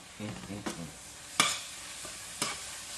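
Sausage sizzles softly in a pan while a utensil stirs it, with a few sharp scraping clacks against the pan over a quiet, steady fry.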